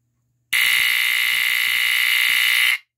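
A First Alert SA769AC smoke detector tested with its cover removed lets out one loud, continuous piercing tone for about two seconds, very close, then cuts off.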